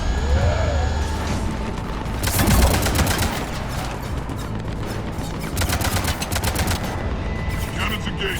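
Rapid heavy cannon fire in the Mass Effect 3 video game, dense bursts of repeated booming shots in clusters over a loud mechanical backdrop, with a voice briefly heard amid the barrage.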